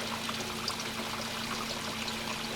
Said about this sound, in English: We now have water coming into the grow beds on timers.